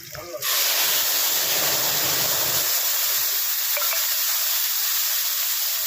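Spice and chilli paste hit hot oil for a Bengali fish curry, bursting into a loud, steady sizzling hiss that holds for several seconds after a brief stir at the start.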